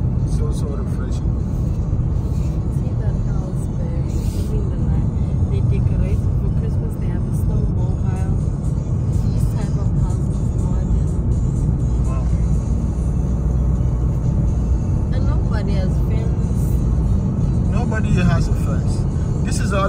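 A car drives along an Arctic road in Norway, its steady low engine and road rumble running continuously throughout, with a voice speaking over it.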